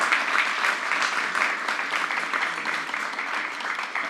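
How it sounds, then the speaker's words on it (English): An audience applauds guests at the close of a panel discussion, a steady, even wash of many hands clapping that holds at a constant level for several seconds with no talking over it. "Let's have a round of applause for our guests today."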